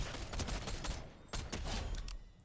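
Bursts of rapid suppressed SMG fire in the Fortnite video game, two quick strings of shots separated by a short pause, fairly faint and without talking.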